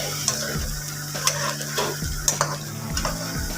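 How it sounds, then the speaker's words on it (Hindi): A spoon stirs taro root (arvi) frying in a pan, giving scraping strokes and light metallic clinks about once a second over a steady sizzle of hot oil. "इसमें एक दफ़ा चमचा हिला लेती हूँ"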